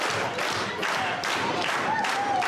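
A wrestling crowd at a match between Bucky Collins and Brett Gakiya, a steady wash of cheering and clapping rising in waves, with a voice faintly audible beneath the noise.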